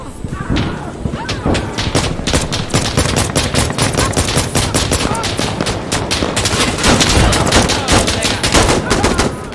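Dense, loud gunfire in Insurgency Sandstorm, overlapping rifle shots and bursts with occasional heavier thumps, continuous throughout and mixed with players talking.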